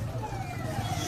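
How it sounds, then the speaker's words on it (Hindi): A vehicle goes by with its siren sounding, a faint wailing tone rising and falling over a low rumble of street traffic in a busy area. "ये सायरन बजाते हुए गाड़ी जा रही है।"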